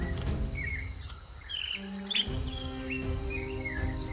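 Short whistled calls and chirps from oriental magpie robins sound at intervals over a busy background of insects and ambient hum.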